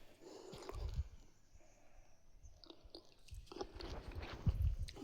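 Someone chews washed karonda berries outdoors, the soft crunching and wet biting coming in uneven bursts close to the mic, quiet overall with faint background noise.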